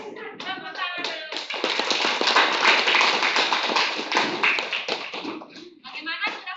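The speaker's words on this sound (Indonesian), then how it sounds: "Tepuk tangan dulu." Group of students clapping hands together in a school classroom, a busy run of loud close taps and claps that rises to a dense peak, with a voice speaking over the start and end.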